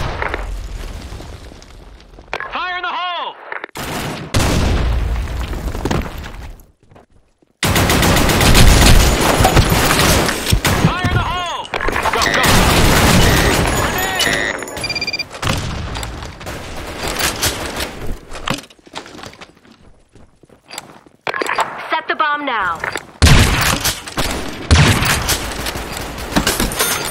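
Heavy gunfire and bursts of explosion in the video game Broken City, loud and dense for most of the stretch, with a few short silent gaps and sparse pauses between volleys.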